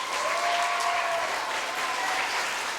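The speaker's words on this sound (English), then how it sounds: "So what about a nice round of applause for the parents?" A school assembly audience claps for the parents, a sustained even round of applause lasting a few seconds with no speech over it.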